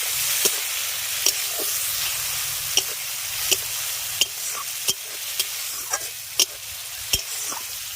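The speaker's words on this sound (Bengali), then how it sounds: "এবার তেলের সঙ্গে দুবার একটু এটাকে এইভাবে নেড়ে মিশিয়ে নেবে" Neem flowers in hot oil sizzle steadily while a utensil stirs them, giving a regular series of sharp scrapes and taps against the pan, about one a second, close by.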